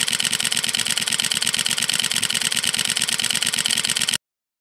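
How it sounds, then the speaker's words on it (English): A camera shutter fires in continuous burst mode at about nine frames per second, producing a fast, even mechanical clatter of rapid clicks that runs for around four seconds, close and alone, then stops abruptly. "Wanna hear how cool the camera shutter sounds?"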